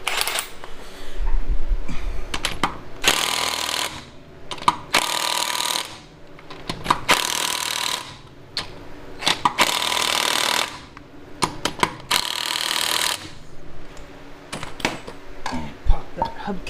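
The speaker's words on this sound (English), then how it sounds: "I'm just tightening up the last of the lug nuts." An impact wrench tightens the lug nuts on a 1967 Buick Special wheel in repeated loud, close bursts of rattling hammering, separated by short pauses.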